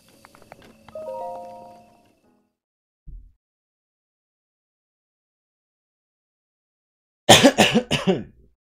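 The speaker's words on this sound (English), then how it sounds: "Cough, cough." A few faint scattered sounds give way to a short burst of throat clearing and coughing near the end, close and fairly loud.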